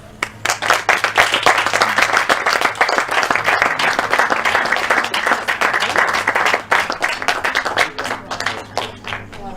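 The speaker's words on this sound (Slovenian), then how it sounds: "Bomo pa vaš uspeh vsi skupaj nagradili z glasnim aplavzom." Loud applause from a crowd at a 2020 school-leaving certificate ceremony, dense clapping that swells and continues steadily, with a few sharper individual claps standing out near the end.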